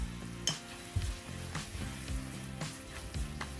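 A mango pickle mixture sizzles in a hot pan as vinegar and asafoetida go in: a steady close crackling fry with soft spoon scrapes and stirs every half second or so.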